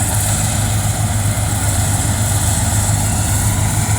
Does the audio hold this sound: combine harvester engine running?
yes